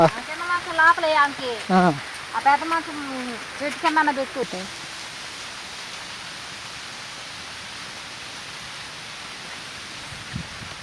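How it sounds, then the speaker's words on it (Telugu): Heavy rain falling at night makes a steady, even hiss. Voices talk over it for the first few seconds, and then the downpour carries on alone at a constant level. "వాన అయితే వచ్చేసిందండి, పొగలే వచ్చేసింది"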